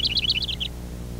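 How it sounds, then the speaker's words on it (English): House wren song: a rapid, bubbling series of high chirping notes, loud and close, lasting under a second and then stopping. "the house wren,"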